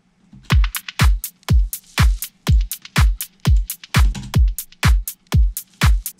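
House drum loop with the low end filtered out, leaving only bright hi-hats, claps and snares hitting in a steady four-beat pulse, crisp and close with no speech.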